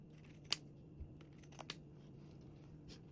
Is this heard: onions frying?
no